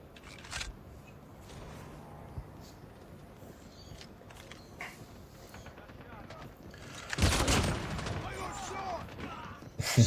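Gunshots from a .50 GS handgun in Call of Duty Mobile, fired akimbo: a few sharp isolated reports early on, then a louder dense burst of fire near the end over in-game ambience.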